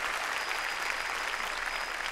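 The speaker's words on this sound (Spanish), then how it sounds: "Dele un aplauso al Rey por eso." A church congregation at a Spanish-language evangelical service breaks into steady applause, a dense wash of clapping that holds at an even level for the whole stretch.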